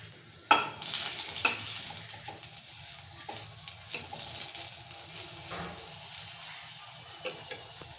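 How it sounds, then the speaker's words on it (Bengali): Potato and pointed gourd slices fry in a home kitchen pan, giving a soft continuous sizzle broken by scattered scrapes and clinks of stirring, with a sharp knock at the start. "আলু ভাজা, পটল ভাজা করে নিচ্ছি"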